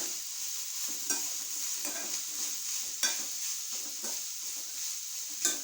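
Grated carrot with chillies and curry leaves sautés in a pan under a steady bright sizzle, with occasional spatula scrapes and taps, close up and without voices.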